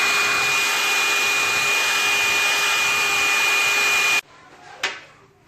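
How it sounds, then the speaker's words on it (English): A hair dryer blows hot air to dry a washed vacuum cleaner circuit board, a loud steady whir that cuts off abruptly near the end, followed by a faint knock. "Now with the hair dryer, and I'm trying to dry the water."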